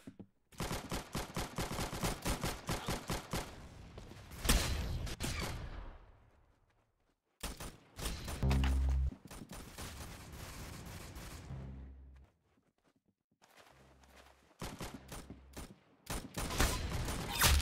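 Gunfire in the Roblox shooting game Arsenal: rapid automatic bursts with sharp single shots, loud and close, in several long volleys separated by short quiet gaps.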